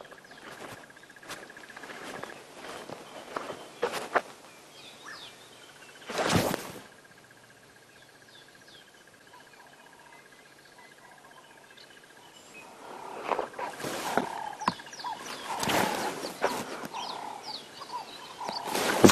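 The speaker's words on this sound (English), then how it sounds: "the morning birds are making my life difficult" Birds' dawn chorus on a sunrise safari: birds chirp and call in the background amid rustling and loud bursts of noise, with the calls growing busier toward the end.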